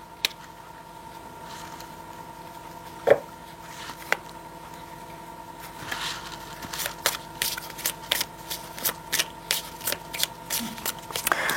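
Tarot cards being handled, shuffled and laid down on a table, soft papery slides and taps that grow into a steady run of small crisp flicks, with a low steady hum underneath.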